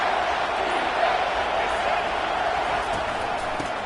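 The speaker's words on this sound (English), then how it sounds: "3rd down, and this crowd is bringing down the house." A college football stadium crowd roars during a third-down play, a dense, loud, unbroken wash of cheering with a commentator's voice carried over it.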